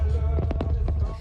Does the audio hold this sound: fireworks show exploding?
yes